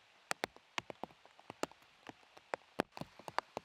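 Rain falling on a disc golf course, scattered sharp drops and taps striking nearby surfaces at an irregular pace, quiet and close, no voices.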